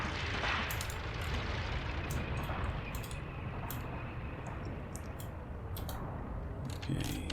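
Artillery fire called in during a Tank Warfare: Tunisia 1943 battle at Longstop Hill, a steady rumbling wash of distant explosions and scattered sharp cracks, dense and continuous without speech.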